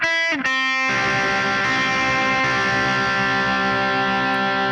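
A distorted electric guitar plays a few quick notes from a riff, then a thick, sustained distorted chord rings out loudly until the end.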